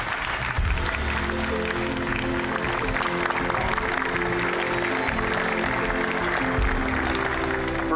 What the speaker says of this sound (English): So you guys deserve the round of applause.